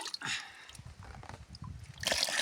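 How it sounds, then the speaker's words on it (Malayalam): Water splashes and trickles steadily into a newly built fish pond, with soft dripping and a brief louder gush toward the end. "നമ്മളതിലേക്ക് ഇതാ വെള്ളം ഒഴിച്ച് തുടങ്ങി."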